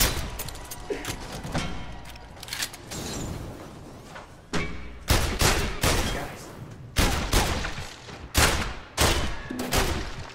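Loud, repeated gunshots ring out in a VR shooting video game, a steady series of sharp, punchy blasts with brief gaps between them and almost no talking.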